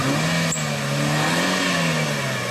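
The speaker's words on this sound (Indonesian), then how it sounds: "Salah satunya minibus ini yang terperosok ke kubangan jalan berlumpur." Minibus engine revving hard while stuck in a muddy pothole on a damaged road, a loud continuous strained drone with slowly wavering pitch, close and alone.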